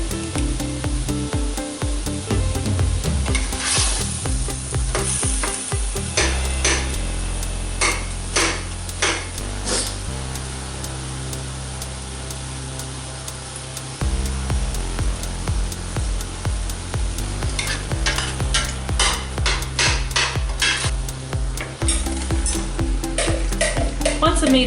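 Meat browning in a pan on the stove sizzles steadily and loudly, with frequent sharp scrapes and clatters from stirring throughout and a slightly quieter stretch in the middle.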